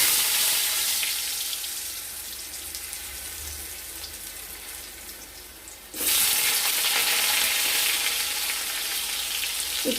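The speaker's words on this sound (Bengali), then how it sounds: "তেলটা গরম হয়ে গেছে এবার আমরা আলুগুলো ভেজে নেবো" Potatoes fry in hot oil in a wok, a steady broadband sizzle that drops slightly before swelling louder again midway as more goes in, continuous and close with no talking.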